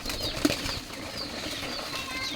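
Soft fluttering of wings from a flock of birds, a brief louder flap near the start followed by continuous faint rustling.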